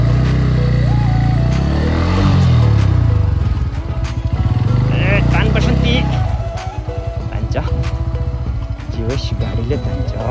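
A motorcycle labors along a rough off-road track during a Dashain journey home. The engine drones and surges close by, rising and dropping in pitch, while people talk over it throughout.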